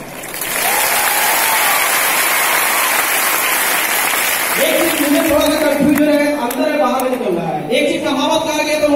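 Audience applause at a recognition program in Lucknow rises after a brief quiet start into loud, dense clapping. Partway through, a voice speaks over it while the clapping continues underneath.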